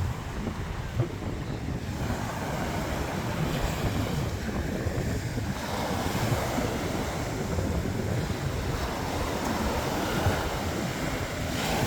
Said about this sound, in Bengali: নির্জন সাগরের গর্জনটা একটু শোনায় আপনাদেরকে